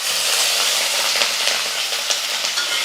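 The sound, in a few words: curry leaves frying in hot oil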